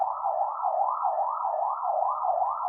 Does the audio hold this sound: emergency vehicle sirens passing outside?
yes